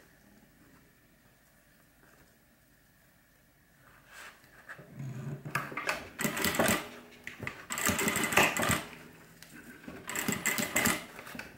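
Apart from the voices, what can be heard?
sewing machine stitching a half inch seam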